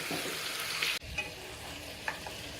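Chicken pieces fry and sizzle in a pan with a steady hiss, with a scrape of stirring partway through and a few soft clinks, close and fairly quiet with no talking.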